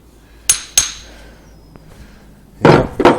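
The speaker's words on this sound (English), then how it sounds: "More hammers." Old hammers from a barn find clink and knock together as they are sorted, two sharp metallic hits, a faint tap, then a louder cluster of clanks, close and without talk.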